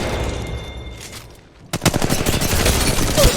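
Rapid video-game gunfire erupts after a brief lull, sharp repeated shots hammering in a fast steady rhythm, loud and close.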